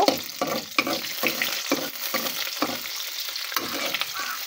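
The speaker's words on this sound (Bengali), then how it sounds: "আমি নিয়ে আসছি ছুরি শুটকি, ভালো করে ধুয়ে রেখেছি। তা আমি একটু ভেজে নেব।" Washed dried ribbonfish frying in a pan, with steady sizzling and a quick series of stirring scrapes in an even rhythm, close and moderately loud, with nobody talking.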